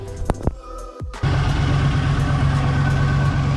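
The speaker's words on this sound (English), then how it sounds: "Got the Wagoneer up and running. Let's hear out those exhaust patches." A 1965 Jeep Wagoneer with freshly patched exhaust starts after a few brief clunks and settles into a loud, steady idle with a deep, even rumble close by.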